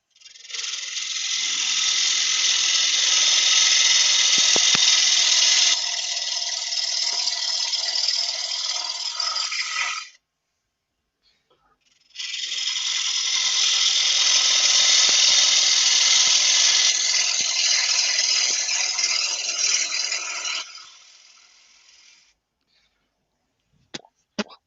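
A wood lathe running under load, with a loud, steady whirring and rasping as a cut is taken. It runs for about ten seconds, stops briefly, then starts again for another stretch before it winds down.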